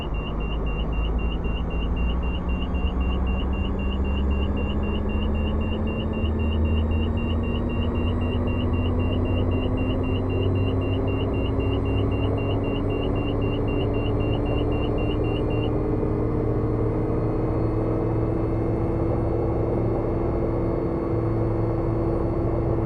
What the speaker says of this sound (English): start adding some throttle just to get us up to where we need to be